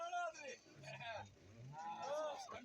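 Cattle and buffalo calves low and moo repeatedly at a busy livestock market, with drawn-out calls mixed among people talking nearby.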